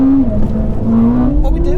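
Ferrari 296 GTB, SF90 and 812 Superfast in a rolling drag race from 30 mph in second gear, engines droning loud and close with rising pitch as they accelerate, with people talking over the roar.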